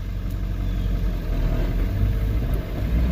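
Ford Powerstroke diesel truck rumbling steadily as it starts rolling, a close, continuous low engine drone with no voices over it.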